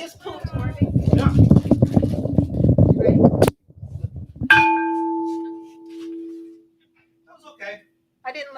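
A big bell struck once in a workshop setting, giving a loud clang that rings out with a long, slowly fading hum, heard after people talk and followed by quiet voices.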